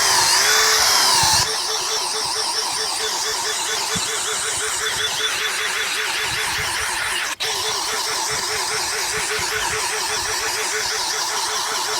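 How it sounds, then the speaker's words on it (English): A power drill bores small aeration holes into a lawn patch with trampled grass, a steady whirring motor whine held at constant pitch for many seconds, with a brief higher squeal at the start and a short break partway through. "I'm going to do that with a drill."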